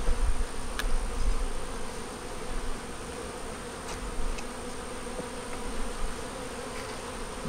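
Honey bees hum in a steady, close, continuous drone while an open hive with a yellow queen, eggs and brood is inspected, with a few louder swells and no talking.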